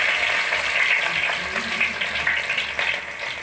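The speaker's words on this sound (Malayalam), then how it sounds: "കടുക് പൊട്ടി കഴിയുമ്പോൾ നമുക്ക് വെളുത്തുള്ളി അരിഞ്ഞത് ഇട്ട് കൊടുക്കാം." Chopped garlic sizzles steadily in hot oil in a pan after mustard seeds have popped, a close, continuous frying hiss with no one talking.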